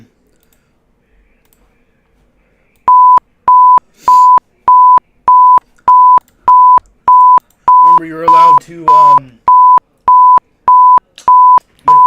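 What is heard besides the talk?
emergency alert beeping tones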